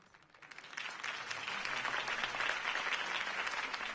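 Crowd applause after a campaign speech in the Batman Telltale video game, swelling in from quiet to a sustained, dense roar of clapping held steady to the end.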